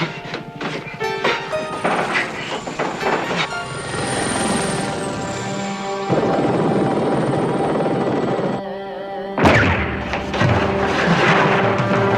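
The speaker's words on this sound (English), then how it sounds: "Bring down that chopper." A helicopter roars overhead with a loud, steady rotor drone and a high whine, and a few heavy crashes and thuds break through.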